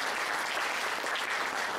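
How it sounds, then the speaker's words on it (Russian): Steady applause from an audience at a college arm-wrestling championship, dense and even clapping filling the full couple of seconds with no voices on top. "Аплодисменты."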